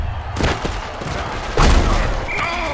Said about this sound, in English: Oh, that's a vicious hit.